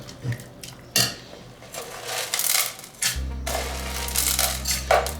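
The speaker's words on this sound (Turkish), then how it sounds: "Bir karıştıralım." A spoon clinks and scrapes in a pot as chocolate, butter and hot milk are stirred together, with sharp metallic knocks, then a steady low hum joins partway through, close and without speech.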